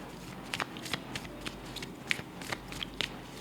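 Tarot cards are shuffled and drawn close to the microphone, making a string of crisp, dry snaps and flicks at an irregular pace in a quiet room.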